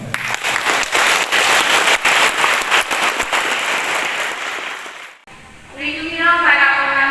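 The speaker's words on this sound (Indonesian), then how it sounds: "Mari kita menyambut mereka dengan tepuk tangan." A church congregation at a wedding claps for the newlyweds, a dense steady applause lasting about five seconds before it stops and a voice begins speaking.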